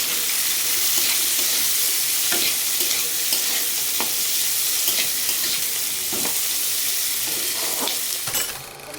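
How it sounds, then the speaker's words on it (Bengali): Chopped onion, green chilli and capsicum stir-fried for chilli chicken give a loud, continuous sizzle, with repeated spatula scrapes and taps throughout, ending abruptly. "পেঁয়াজ, কাঁচা লঙ্কা আর ক্যাপসিকাম কুচি সব কিছু ভালো মতো মিশিয়ে নেবে।"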